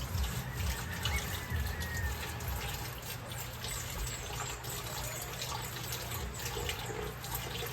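Rice is washed under a running kitchen tap: a steady, close stream of water splashes and trickles continuously without talk.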